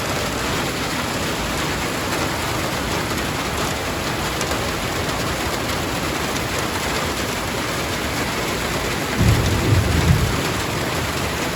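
Steady heavy rain pours over an outdoor garden, with a low rumble of thunder rolling in near the end; no voices.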